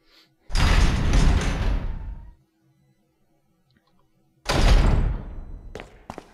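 A heavy door swings open in the Resident Evil remake, a loud sweeping creak and thud lasting about two seconds, then silence before a second similar heavy rush of sound.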